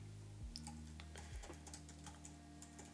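Rapid typing of code on a computer keyboard, a steady close patter of key clicks over a low background hum, with no talking.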